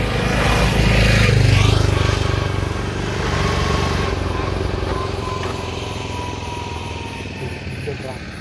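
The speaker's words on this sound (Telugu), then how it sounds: "గాడి స్టార్ట్ అవుతుంది, గేర్ వేసి లైక్ ముందుకు వెళ్తుంటే ఆఫ్ అయిపోతుంది అనమాట" A motorbike engine starts loud and rumbling, then loses power and stalls when put into gear, its sound fading over several seconds; a voice may be faintly present.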